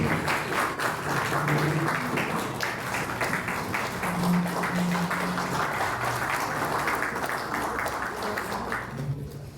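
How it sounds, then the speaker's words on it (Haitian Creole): Audience applause for the tourism minister at a public event, a steady wash of many hands clapping that holds for the whole stretch at constant loudness, then eases slightly at the end. "Merci de l'applaudir"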